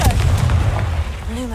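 A Confringo fire spell blast in Hogwarts Legacy lands as a deep, booming burst with a rumbling low-end tail, loud and close, fading over about a second with a faint voice underneath.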